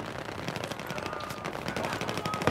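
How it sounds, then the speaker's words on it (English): Rapid gunfire from a Battlefield 4 firefight, continuous bursts of automatic weapon shots crackling loudly and densely throughout, with steady battle noise underneath. "There's people shooting at my balcony"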